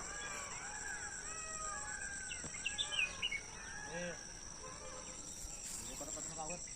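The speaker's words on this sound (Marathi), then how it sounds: "मोरांचा आवाज पहा" Faint, distant peacock calls ring out a few times over a farm field in Kolhapur, over a soft bed of chirping insects, with quiet voices in the background.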